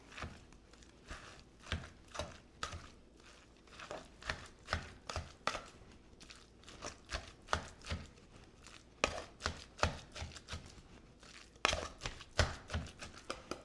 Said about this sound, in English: now I'm going to take my pastry blender and just mash away.